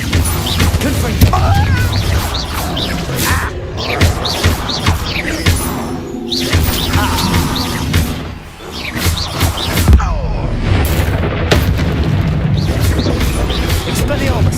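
Confringo spell blasts in Hogwarts Legacy, booming impacts and crashes that recur throughout, loud and dense, with a voice shouting spell names over them.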